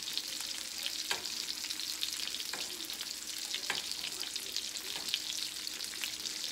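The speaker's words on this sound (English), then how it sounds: "Once your butter melts inside of your pan, you want to go ahead and spoon your melted butter over your trout." Steelhead trout frying in melted butter in a pan, a steady close sizzle with occasional spoon scrapes and taps as butter is spooned over, no voices.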